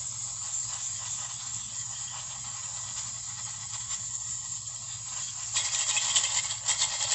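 A steady aerosol cleaner spray hisses close by into a 1961 Chevy Corvair Monza carburetor for several seconds, growing louder and harsher near the end, with a low hum underneath.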